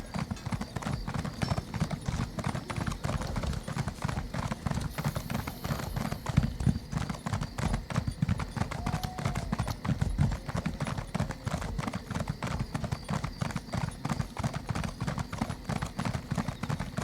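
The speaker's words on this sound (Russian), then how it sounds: "Лошадь, конечно, у нас скачет медленно" In the Skyrim video game, a horse gallops at a steady, even rhythm for the whole stretch, with dense repeated hoofbeats over a soft background. A brief faint whinny or call surfaces near the middle.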